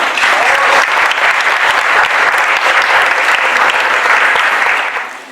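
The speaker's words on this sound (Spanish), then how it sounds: "Un aplauso" Loud, steady applause from an audience at an academic talk on dance and film, a dense wash of clapping held for about five seconds before tapering off at the end.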